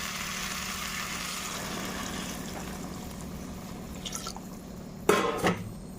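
Water pours steadily into a pot of vegetarian khichuri, a soft continuous wash of liquid sound with faint drips, ending in a short louder clatter of the pot near the close.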